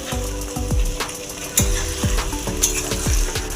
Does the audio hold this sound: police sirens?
no